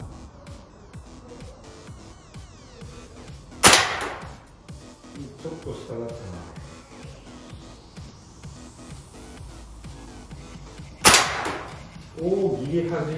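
A VFC/Umarex H&K PSG-1 gas blowback airsoft sniper rifle fires two loud, sharp cracks about seven seconds apart, each with a brief mechanical clatter, under a steady background of murmuring voices and ambient noise.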